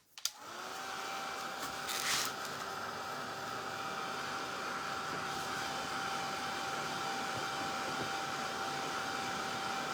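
A hair dryer switches on with a brief click and blows steadily to dry gold paint on a stencilled Christmas sign, a close, continuous whooshing roar with a faint motor whine.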